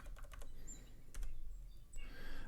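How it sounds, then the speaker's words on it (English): Short bursts of key presses on a computer keyboard, a few quick clicks near the start and more later, faint and close, with no talking. "So we'll type that in."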